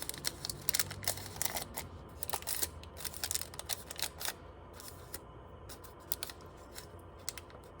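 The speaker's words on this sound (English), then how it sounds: "we're going to cut off the corners" Scissors snip repeatedly through folded red tissue paper, cutting off its corners in quick, crisp, irregular clicks at close range, with brief pauses between cuts and no talking.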